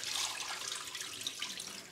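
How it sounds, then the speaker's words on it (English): Water poured out of a cooking pot while cooking chicken, with a little left at the bottom. A steady, close splashing pour runs for about two seconds without a break, and no one talks. "pouring out the water, not completely, leaving a little bit of water at the bottom"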